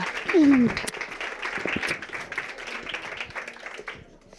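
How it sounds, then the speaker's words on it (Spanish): Audience applause for a pediatrician being welcomed at a talk on living with type 1 diabetes in the family, moderate clapping over a few seconds, with a brief voice at the start. "Vamos a darle un aplauso a ella también."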